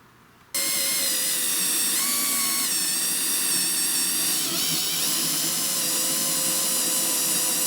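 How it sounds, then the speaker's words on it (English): A drill with a 17/64 bit bores into a steel shaft on a John Deere lawn tractor deck pulley, running as a steady, loud, close whine that starts abruptly and holds for several seconds. "I'll be drilling approximately 3/4 to an inch deep in the shaft here"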